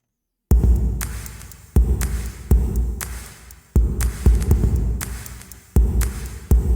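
Punchy electronic drum hits thump at a steady, spaced pace, each deep synthetic kick and snap decaying before the next.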